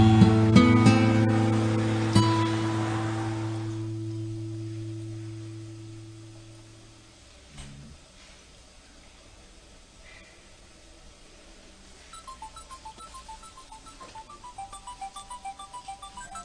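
After a fading electronic chord, a phone ringtone starts up as a run of repeating bright electronic beeps, moderately loud and alone, with no talk over it.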